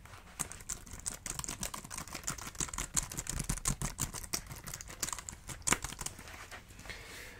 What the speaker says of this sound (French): je prends mon petit iPad avec mon clavier que j'utilise pour les cours et pour noter les idées de vidéos